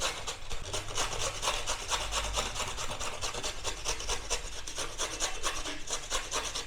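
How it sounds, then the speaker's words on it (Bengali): Beetroot is grated by hand in close, steady, rhythmic rasping strokes that scrape evenly and continuously, with no other sounds. "বিটটা ওটা গ্রেট করে নেবো"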